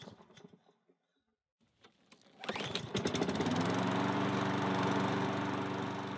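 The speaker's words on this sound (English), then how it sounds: "Start and run the engine until it runs out of fuel again." A small engine running on canned ethanol-free small engine fuel is pulled to start after a few quiet rattles, then catches and runs steadily with a loud, close, buzzing drone.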